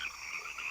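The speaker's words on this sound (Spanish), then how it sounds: "lo que da paso a un documental sobre los hábitos de apareamiento de los sapos" Cartoon toads croak steadily in a nature documentary about toad mating, a continuous buzzing chorus of croaks at moderate level with no talk.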